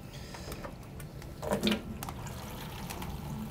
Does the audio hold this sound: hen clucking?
no